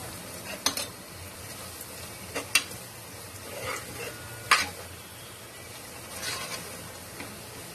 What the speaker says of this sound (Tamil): இது எல்லாத்தையும் எடுத்து வச்சிருக்க எல்லாத்தையும் போட்டு நல்லா வதக்கி விட்டுறலாம்.